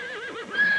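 A wild mustang horse gives a short, wavering whinny, loud and close, with no other voices.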